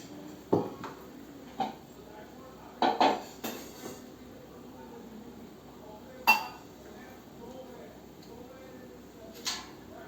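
Metal plates clink and clatter while being handled for making jackfruit seed sweets, several sharp scattered knocks against a quiet room background, with a voice speaking between them.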